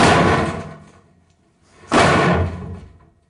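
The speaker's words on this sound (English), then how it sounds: "This is just giving you a metallic, ringy metal ramp sound." Metallic, ringing sound effect of a car rolling off a metal ramp, heard as two loud, clanging impacts about two seconds apart, each fading out.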